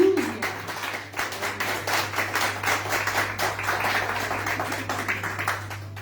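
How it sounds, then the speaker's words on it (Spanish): A church congregation claps together during a sermon service, a brisk, fairly even patter of many hands over a low steady electrical hum, with no one speaking. "Dale un fuerte aplauso al Señor"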